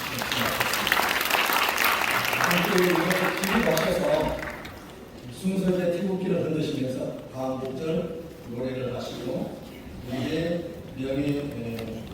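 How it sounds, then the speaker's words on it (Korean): Congregation applause at a memorial church service marking the 78th Liberation Day anniversary: dense clapping for about four seconds, then fading under someone speaking over a sound system. "곁에서 함께 하셨던 모두에게 경례의 박수와 축복의 박수를 드립니다"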